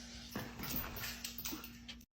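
A dog whimpers and whines in a few short, soft cries right after being sneezed on, close by in a quiet room with a low steady hum.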